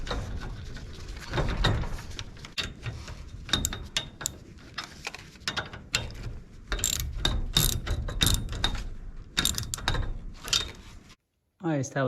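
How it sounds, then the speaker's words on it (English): A 9/16 socket wrench ratchets through repeated bursts of clicking while a metal building's insulated garage door is installed, the clicks close and uneven, with brief pauses and some handling noise between bursts. "9/16 socket and wrench for this"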